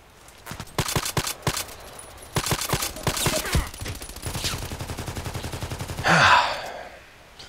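Gunfire in a shooter video game on the Old Sawmill map, with rapid automatic bursts fired close by, a sustained rattling stretch, then a louder blast near the end.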